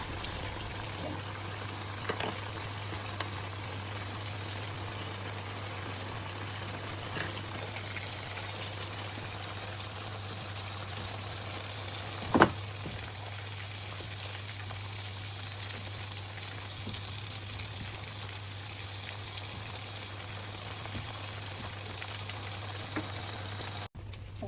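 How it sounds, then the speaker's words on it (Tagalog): A steady, soft sizzle of tofu and fish cake frying in oil continues throughout, with an occasional faint clink, no voices. "I-fry natin yung tokwa at saka fish cake."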